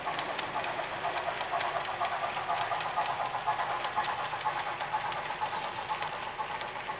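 A small HO-scale model train hums and clicks steadily along its track, a light rhythmic rattling running continuously at moderate volume.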